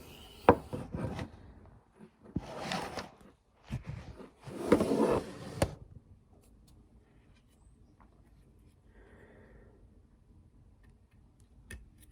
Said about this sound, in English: So I'll take that tape off now and you'll see.